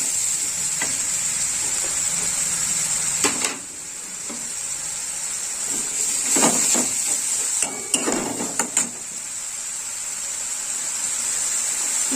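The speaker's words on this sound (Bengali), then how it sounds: "একটু নেড়ে চেড়ে নেবো।" Coriander and cumin powder get stirred through a frying pan under a steady sizzle, with several sharp scraping and clinking strokes of a spoon against the metal.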